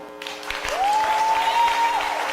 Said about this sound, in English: Applause, come on.